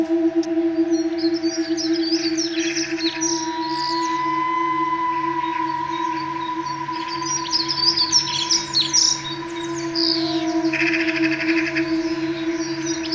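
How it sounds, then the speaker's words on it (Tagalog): Birds chirp and tweet in short bursts on a mountainside, their calls layered over a steady droning hum in the background. "Look at the bird."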